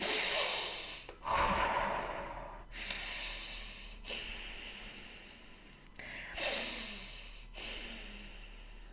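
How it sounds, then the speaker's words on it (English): Deep, rapid breaths taken as a breathing demonstration for anxiety relief, close and loud, with several forceful inhale-exhale cycles separated by brief pauses and no talking. "So you take really deep breaths, basically a bit like this."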